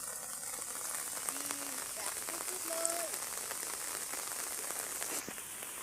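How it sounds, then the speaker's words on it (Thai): Heavy rain falling outdoors makes a steady, dense hiss of drops on surfaces throughout, fairly faint and unbroken, with a few soft tonal sounds in the background. "บรรยากาศดีแฮมพี่น้องฝนตก"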